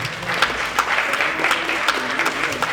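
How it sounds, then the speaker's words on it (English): Audience applause at a Christmas gala and awards ceremony: sustained clapping from a roomful of people, steady and fairly close, with scattered louder claps throughout. "Let's give them another round of applause."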